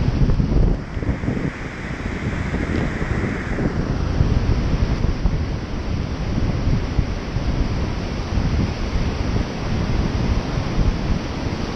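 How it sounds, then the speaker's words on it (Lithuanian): Strong wind gusts across a beach beside a dune at Karklė, battering the microphone with loud, rumbling buffets over a continuous roar of surf for the whole stretch, with no talking. "Gerai, kad vėjai užtenka"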